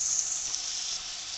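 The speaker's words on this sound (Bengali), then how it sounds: "এখন আপাতত আমি ভাজতে দিয়েছি" Chopped bitter gourd and potato frying in oil tempered with nigella seeds and chili in a pan, a steady, even hiss of moderate loudness that continues without a break and with no talking.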